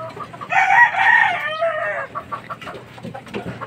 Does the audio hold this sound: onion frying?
no